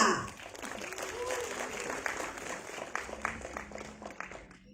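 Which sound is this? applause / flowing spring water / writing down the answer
applause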